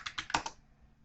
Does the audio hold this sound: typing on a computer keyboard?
yes